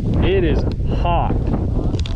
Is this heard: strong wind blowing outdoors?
yes